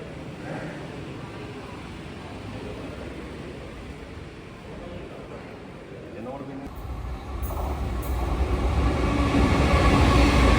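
Train noise at Thalassery railway station, a steady broadband rumble that swells louder toward the end, with voices faintly mixed in.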